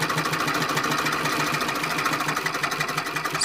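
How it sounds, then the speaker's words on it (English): A treadle sewing machine runs steadily, its continuous mechanical whir and rapid needle clatter close and even throughout, with no voices. "you'll get your treadle running just fine"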